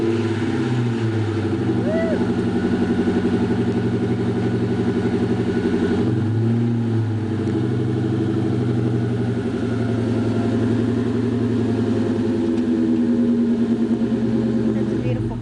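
2003 Mustang Mach 1 with the 4-valve V8 and a Flowmaster catback exhaust, a steady, deep engine drone heard nearby for the whole stretch, with a brief rev change partway, while a person talks over it.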